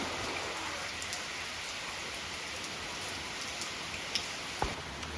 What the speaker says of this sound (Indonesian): Di suasana hujan, gimana nih di daerah kalian juga lagi hujan kan?